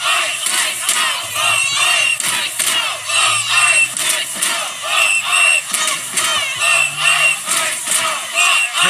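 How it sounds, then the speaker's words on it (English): A large protest crowd in cold winter Minneapolis shouting and yelling together, a dense continuous roar of many voices that rises and falls in waves, loud and close throughout. "This is a big crowd."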